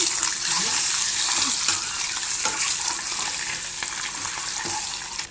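Scored boiled eggs fry with chili powder and turmeric for a spicy egg curry, a loud continuous sizzle broken by scraping stirs and utensil taps.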